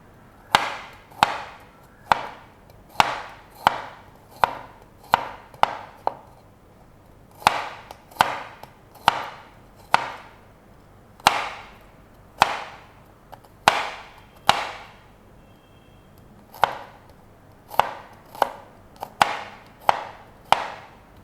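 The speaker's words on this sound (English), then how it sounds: "chop up some garlic" Garlic is chopped on a board with a professional Sunnex kitchen knife, giving about two dozen sharp, close chops in quick bursts of several strikes with short pauses between.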